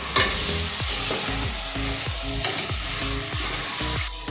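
Cut tomatoes frying in a pan for tomato rice, a loud continuous sizzle broken by a regular rhythm of spoon scrapes and knocks as they are stirred.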